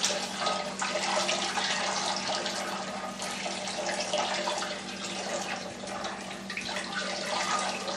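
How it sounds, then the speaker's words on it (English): Steady rushing water pours and splashes continuously for several seconds as 150-degree water rinses brewing grains for a Belgian wit ale, a close, full-bodied stream like a tap running into a vessel. "now I'm just going to rinse the grains with 150 degree water"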